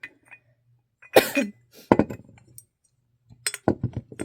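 Glass unicorn figurines clink and knock together in a few brief bursts of bright chiming rattles separated by quiet gaps, close by, with a small cough-like sound between them.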